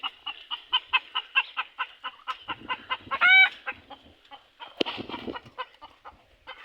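Chickens cluck in a quick, regular series of close, bright calls, and a rooster gives a short rising crow partway through, with a few rustling knocks underneath.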